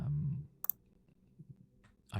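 A couple of quick mouse clicks on a CMS dashboard while setting up an article prompt, short and close, with low voice-like hum around them.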